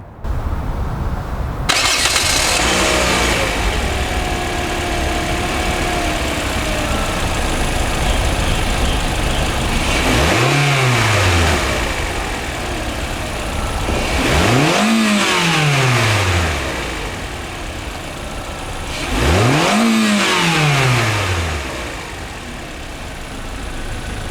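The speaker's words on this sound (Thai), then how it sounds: "มาฟังเสียงเครื่องยนต์กัน" A Toyota Corolla Altis E170 1.8 engine cranks and starts, settles into a steady idle, then revs up sharply three times at even intervals, each rev falling back to idle.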